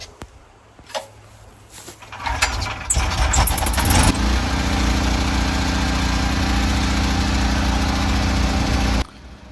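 A portable generator sits beside cinder blocks. After a few clicks and rattles it starts, then runs with a loud, steady engine drone until it cuts off abruptly near the end.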